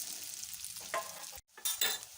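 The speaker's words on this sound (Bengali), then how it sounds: "পনিরগুলো গরম তেলে দিয়ে দিচ্ছি।" Paneer pieces frying in hot oil in a home kitchen while korma is cooked, giving a steady crackling sizzle with brief stirring scrapes, one short silent break, then the frying resumes loudly.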